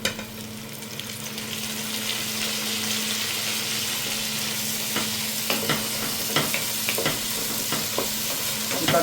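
Tomatoes hit a pan of garlic, green chili, curry leaves and lemon frying in oil for an Arabic fish rice, starting with a burst then settling into a steady close sizzle with occasional stirring scrapes, no talking.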